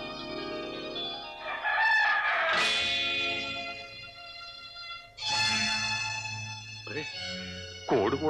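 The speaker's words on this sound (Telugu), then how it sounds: "కోడి కూడా కూసేసింది." A rooster crows at night in a village scene from an NTR and Jaya Prada Telugu film, several loud drawn-out calls rising and falling amid film music.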